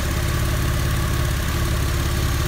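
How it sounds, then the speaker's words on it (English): A Porsche 911 of the 996 generation idles steadily after winter storage, a loud, constant low rumble with an even pulsing beat and no voices over it. "Engine sounds perfect."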